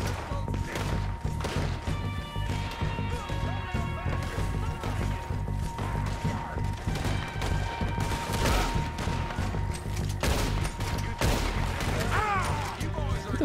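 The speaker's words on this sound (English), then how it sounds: "Who the fuck is shooting?" Repeated gunshots crack through a Red Dead Redemption 2 scene, loud sharp bursts scattered across the whole stretch over steady in-game music and ambience, with some voice audible.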